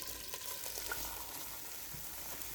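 Polao rice fries in ghee with cashews, raisins and chicken gravy, making a faint steady sizzle with light stirring scrapes underneath.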